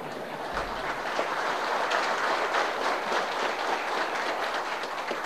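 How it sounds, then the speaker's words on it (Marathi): A rally crowd in Ratnagiri claps in a broad, steady wash of applause heard from a distance, continuous and fairly loud throughout. "टाळ्या ना अशा वाजतात, तिकडे वाजत नाही."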